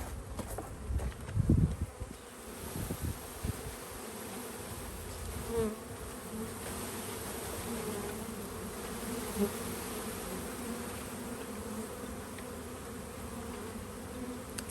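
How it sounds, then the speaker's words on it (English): A package of honeybees being installed into a hive makes a continuous, fairly close droning buzz, with a few dull knocks near the start and no talking. "Let me get these bees in here and then I will show you her."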